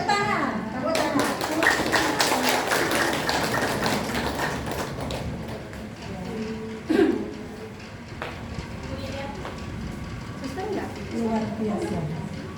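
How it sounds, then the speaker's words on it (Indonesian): A group of elderly participants at a Kartini Day gathering of a seniors' school claps hands, with dense rapid claps in the first few seconds that thin into scattered taps amid chatter. "Ya tepuk tangan, tepuk tangan."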